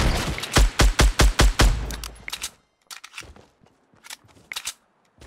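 Gunfire in Fortnite Battle Royale: a fast string of loud, close shots in an even rhythm, then fainter scattered shots farther off with gaps of quiet.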